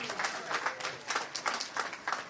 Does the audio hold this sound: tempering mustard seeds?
no